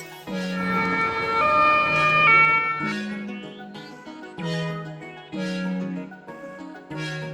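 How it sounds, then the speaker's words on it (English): Ambulance siren cycling through alternating tones, repeated in bursts and mixed with a musical backing, moderately loud throughout. "Ambulance."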